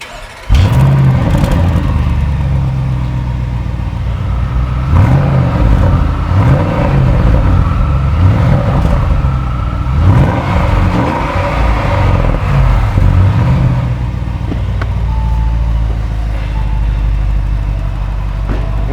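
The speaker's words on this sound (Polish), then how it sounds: "nasz benzynowy motor V8 modelu RSQ8 generuje naprawdę prawdziwe, rasowe brzmienie" An Audi RSQ8's V8 petrol engine idles with a deep rumble and then revs repeatedly, loud and close, with no talking.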